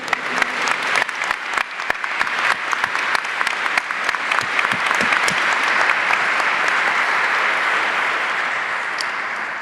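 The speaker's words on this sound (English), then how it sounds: "I would like to give a big applause to Dominika, Stefan, Josephine, and Yanis." An audience at the European Degree Forum applauds four conference panelists; scattered sharp claps at first quickly swell into dense, sustained applause that stays loud and then tapers gently toward the end.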